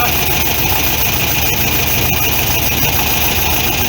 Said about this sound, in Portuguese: Começou a cair a rotação do motor.